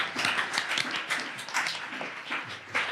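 Applause from an audience at a book fair, a brisk run of overlapping claps at moderate volume that fills the whole moment without any speech.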